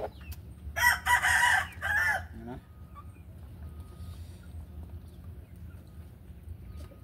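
A Lemon Grey Talisayin gamecock crows once, loud and close, then the scene falls to a quiet background hum.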